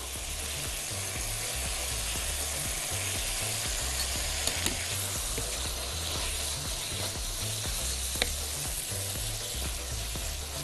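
Minced meat fries in a pot with a continuous, even sizzle, broken by occasional stirring scrapes and a few sharp clicks, steady and close throughout with no speech.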